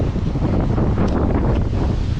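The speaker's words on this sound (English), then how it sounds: "don't know how much you can hear in this wind, I'm sorry." Strong wind buffets a microphone on the shore of the Gulf of Carpentaria at Weipa, a loud, continuous rumbling roar with no other clear sound.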